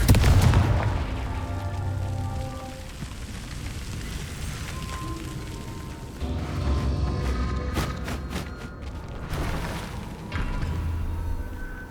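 Repeated Confringo fire-spell blasts in Hogwarts Legacy, booming explosions with crackling debris that recur every few seconds over a rumbling game soundscape.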